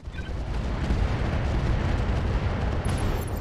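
Heavy mech weapons in the RogueTech game fire in a dense, booming barrage, a sustained roar of explosive impacts and rumbling blasts with no voices over it.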